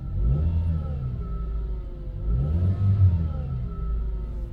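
A second-generation Honda CR-V engine idles with the clutch pedal pressed, and the worn release bearing adds a steady whirring drone over a low engine rumble that swells slightly mid-clip, close up with no talk.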